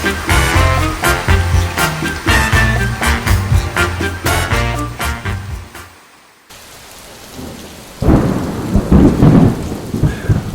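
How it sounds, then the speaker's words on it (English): Thunderstorm over a river on a boating trip, loud rain and rumbling thunder with a heavy burst toward the end, interrupted by a stretch of music at the start. "after waiting out the thunderstorms"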